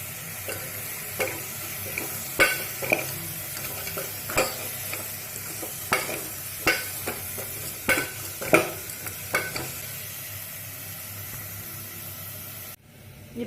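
Tomatoes being stirred into a sizzling pan for crab rasam, the spoon scraping in steady, regular strokes over a constant frying hiss, close and clear with no talking.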